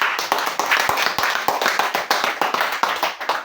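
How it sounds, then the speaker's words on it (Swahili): A crowd claps steadily in appreciation at a food distribution for flood victims in Kiambiu, a dense run of overlapping hand claps at close range with no talking over it. "Jamani, tumpigie makofi"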